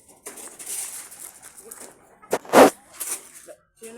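Racing pigeons cooing in a loft, with soft murmuring calls close by, one louder burst near the middle and a few short coos after it, with some people talking in the background.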